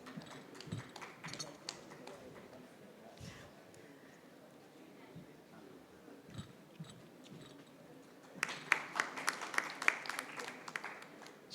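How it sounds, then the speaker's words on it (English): After a stretch of low murmuring and scattered taps, a conference audience at an electric vehicle session breaks into applause that grows steadier toward the end, heard from a distance. "Let's have a huge round of applause"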